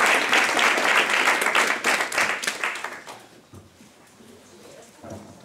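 An audience at a migration conference applauds a speaker, a dense burst of many hands clapping that fades away after about three seconds, leaving quiet room noise and a few scattered final claps.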